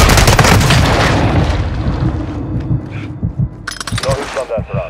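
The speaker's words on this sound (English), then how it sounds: "Hostile mortar strike incoming!" Mortar strike explosions in Call of Duty Modern Warfare 2 Resurgence, a loud booming blast with crackling debris that decays into rumble, followed by scattered thuds and voices talking over the aftermath.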